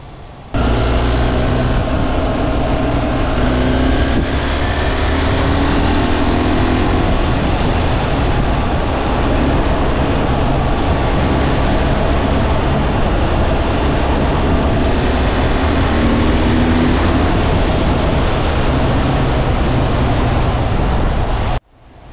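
BMW R 1300 GS boxer motorcycle engine riding on the road in road mode, a steady, continuous drone mixed with wind and road noise for the whole stretch, with no talking.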